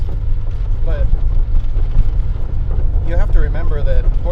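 Engine rumble of a 1987 Porsche 911 Carrera driving on a dirt road, a loud steady low drone with road noise, with people talking over it.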